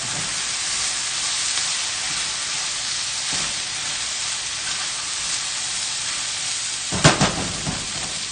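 Ratatouille vegetables and garlic sizzling over high heat in a pan, a continuous loud hiss with a brief scrape and clatter of stirring near the end.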